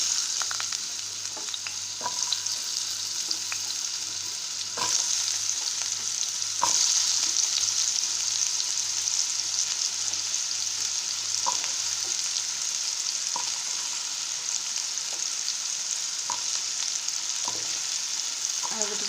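Potatoes fry in hot mustard oil for an Odia cabbage curry, giving a steady close sizzle with occasional pops and light spoon clicks, with no talk.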